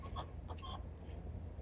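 Backyard chickens in an open-range setting in Arizona give a few faint, short clucks over a steady low hum, fairly quiet and without any talking.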